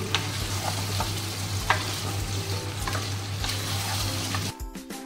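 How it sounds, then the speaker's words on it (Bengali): Chicken cooking with yogurt in a kadai for chicken do pyaza, a steady stirring sizzle with scraping strokes throughout, close and fairly loud, stopping abruptly near the end. "এবারে আরো কিছুক্ষণ এইভাবে কষিয়ে নিতে হবে দইটা দিয়ে"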